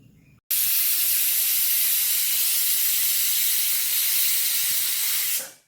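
Pressure cooker whistle venting steam while boiling chana dal, a loud continuous hiss that starts abruptly, holds steadily for about five seconds, then cuts off.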